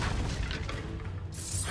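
An Expulso explosion spell cast in the video game Hogwarts Legacy, a deep, rumbling boom that fills the whole short moment, with a brighter crackle near the end.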